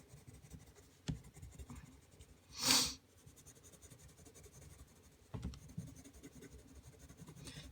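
Coloured pencil strokes rub softly over paper while aqua and blue shades are blended, faint and close, with a louder scratchy burst midway and a few taps.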